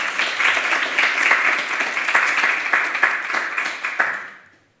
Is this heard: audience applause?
yes